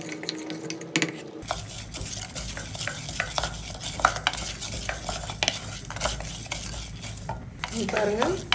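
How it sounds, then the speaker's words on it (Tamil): Lentils dry-roasting in a pan for Chettinad paruppu thuvaiyal, with a spoon steadily scraping and stirring against the metal, giving repeated close clinks and rasps over a faint crackle. "இப்போ இது கூட பருப்பையும் வறுத்தரலாம்."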